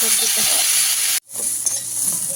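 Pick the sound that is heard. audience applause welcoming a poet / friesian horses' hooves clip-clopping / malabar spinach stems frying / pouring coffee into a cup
malabar spinach stems frying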